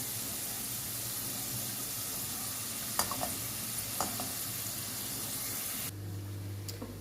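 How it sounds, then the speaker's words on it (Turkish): Potatoes frying in oil in a home kitchen pan, a steady faint sizzle with a few light clinks, no voices. "patateslerimi kızartmaya bıraktım"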